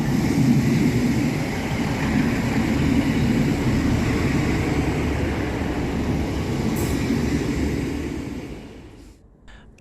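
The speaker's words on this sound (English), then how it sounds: "Next up to arrive at the station is 155345, working the 1715 Northern service from York through to Bridlington." Northern class 155 passenger unit 155345 pulling into Selby station, a loud continuous rumble of wheels and engine close by that holds steady, then eases and fades away near the end.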